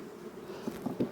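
Honey bees buzz at an open beehive during the acacia nectar flow, a faint steady low hum with a few soft bumps and knocks toward the end.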